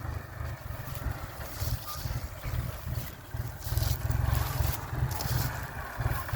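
A New Holland TT3.50 diesel tractor engine chugs steadily at a low pitch while pulling a disc plough, with rough mechanical rattling and some wind noise mixed in.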